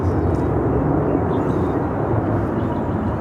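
An Air Canada Rouge Airbus A319 jet at Phoenix airport: a loud, steady, broadband engine roar with heavy low rumble and a constant hiss, heard alone with no talking.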